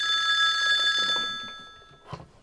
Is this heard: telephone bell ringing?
yes